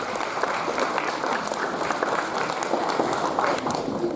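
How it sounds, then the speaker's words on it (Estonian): A crowd at a school Christmas party applauds kannel players, dense steady clapping that carries on evenly and close by without any break. "suur aplaus kanneldajatele"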